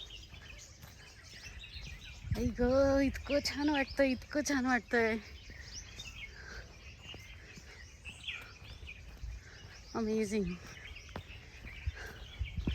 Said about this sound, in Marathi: पक्ष्यांचे इतके गोड आवाज येत आहेत ना